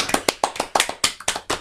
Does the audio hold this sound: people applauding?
yes